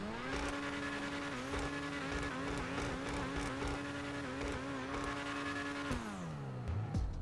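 A Grotti Turismo Omaggio supercar in GTA Online is revved while standing still. The engine holds a loud, steady high-pitched drone with small blips in pitch, then falls away near the end. It is heard alone, with no talking.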